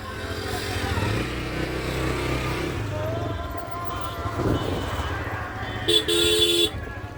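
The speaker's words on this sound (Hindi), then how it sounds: "बहुत ट्रैफिक है दोस्तों, बहुत ट्रैफिक है।" Busy road traffic rumbles with engines passing close by, then a car horn honks loudly near the end; people talk faintly underneath.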